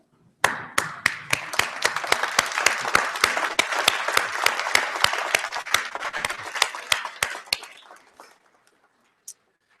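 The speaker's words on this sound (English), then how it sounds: "So graduates, I invite you all to stand up, turn around, salute and applaud." Graduates' families at a university convocation in War Memorial Hall break into sustained applause, a dense burst of clapping that holds for several seconds, then thins and fades out, with one last lone clap after a pause.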